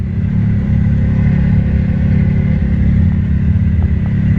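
A Kawasaki Teryx side-by-side decked out with a blow-up skeleton rolls past on a ghost town run, its engine a steady loud drone throughout with no talk.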